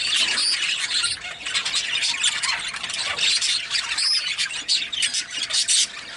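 Hen and young chicks at a hatching pen, with dense, continuous high squeals, squawks and chirps overlapping close by, loud and steady throughout.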